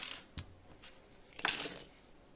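Loose keyboard keycaps from an RK61 Royal Kludge 60% keyboard are scooped up and set aside, giving a quick plastic clatter, a small click and then a longer rattling shuffle, close and fairly quiet.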